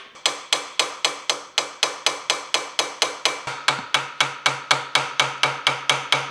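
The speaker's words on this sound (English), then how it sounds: "All that was left was to hammer over the rivets." Steady, evenly paced hammer blows with a small hammer, about three strikes a second and around twenty in all, close and sharp, peening over rivets on a pedal car being restored.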